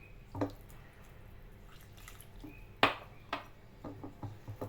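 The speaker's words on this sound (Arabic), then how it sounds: "وغادي نبدا ناخذ الماء دافي وغادي نبدا نجمع في العجين بهذا الشكل" Warm water is poured and bread dough is gathered by hand for small stuffed flatbreads, giving soft wet drips, slaps and a few sharper knocks against a bowl, close up and fairly quiet, with no talking.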